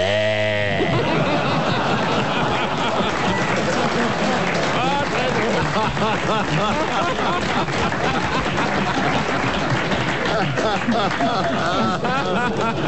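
A man imitates a sheep's bleat with his voice, a short wavering bleat at the start, followed by loud studio laughter and crowd noise on a French television comedy panel show.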